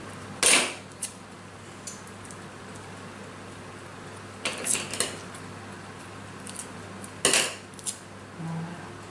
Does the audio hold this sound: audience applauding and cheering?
no